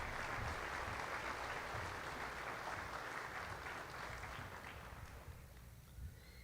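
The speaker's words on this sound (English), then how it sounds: "So if we can give them a round of applause real fast." Applause for the school administration at a Pratt High School graduation ceremony, dense crowd clapping that starts full and gradually thins and fades toward the end.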